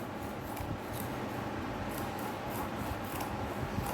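Scissors slice through lining fabric in a steady, close rasping rub, with faint, regularly spaced snips of the blades cutting through the cloth, quiet and without speech.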